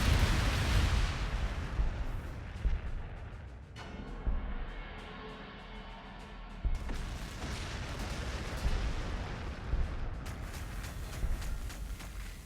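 Artillery fire in an Astra Militarum war game, with heavy booming blasts and rumbling bursts that swell and fade, a loud opening salvo followed by scattered shots and crackling impacts.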